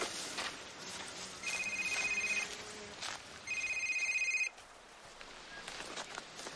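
A telephone rings in two long electronic bursts separated by a short pause, clear and fairly close in a quiet room, with faint background movement.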